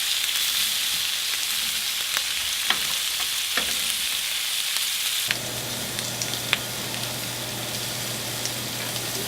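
Colossal shrimp grill in a hot pan with a steady, close sizzle and scattered pops; about halfway through the hiss grows denser under a low hum.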